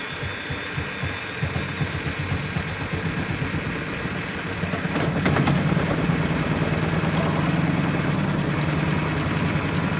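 Bosch washing machine on its fastest 1000 rpm spin with the side panel removed, a steady rumbling churn with rhythmic thumping, rising louder and rougher about halfway through as the drum speeds up and shakes.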